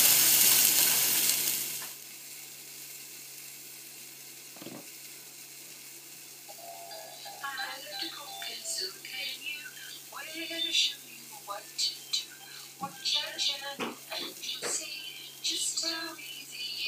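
Bream and bacon fry in a lidded pan that gets shaken, a brief loud burst at the start giving way to soft sizzling, then clattering, scraping bursts as the covered pan is jostled.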